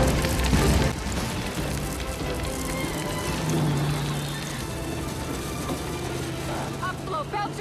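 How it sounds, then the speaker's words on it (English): Artificial hail made from tons of ice falls on a film set, a dense, loud, continuous clatter and patter of pieces striking surfaces, with mechanical noise underneath and a few distant voices. "Okay, we got hail."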